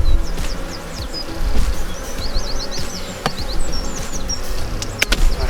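Buckfast crossed with Welsh black honey bees buzzing during a June hive inspection: a dense, close, continuous hum with individual bees whining past, plus scattered clicks and knocks from handling the frames.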